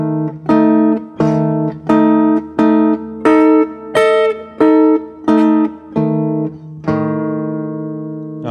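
Electric guitar sounding tritone chord shapes one at a time, about ten separate struck chords in a steady rhythm, each ringing briefly before the next and the last left to sustain, played alone and up close.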